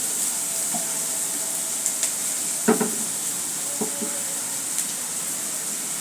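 Garlic and onions frying in a pan, a steady broad sizzle with a few soft stirring knocks and scrapes against the pan, close and continuous with no talking.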